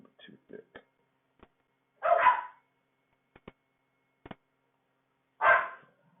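Dogs bark indoors in two sharp, loud bursts a few seconds apart, with faint clicks and short murmured voices scattered between them in an otherwise quiet room.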